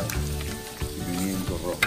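Onion frying in a pan, a steady close sizzle with crackling bursts as it is stirred.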